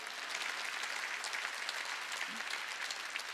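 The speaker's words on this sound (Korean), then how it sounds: "박수 치라 이게요" A church congregation at a Sunday worship service claps in a dense, continuous wash of many hands, even and steady throughout, heard from across the hall.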